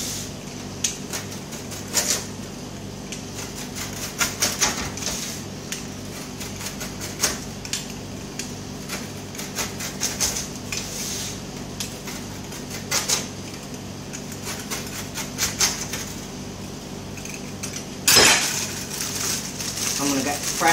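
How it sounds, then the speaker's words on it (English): A crisp New York-style pizza is sliced into eight pieces, with a run of close, sharp crunching and scraping cuts through the crust, irregular and fairly loud, as a person talks intermittently. "we're going to cut it into 8 slices. You can hear that, it's quite crisp."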